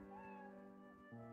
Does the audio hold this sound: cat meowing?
yes